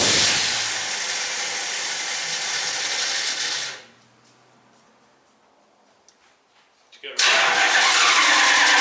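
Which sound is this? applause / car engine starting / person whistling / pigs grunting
car engine starting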